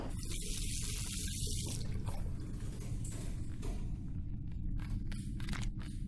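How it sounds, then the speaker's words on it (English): In The Last Door video game, water runs from a tap in a soft steady rush and trickle, fairly quiet, with a brighter hiss at the start before settling into a low continuous flow. "now I need to turn the water."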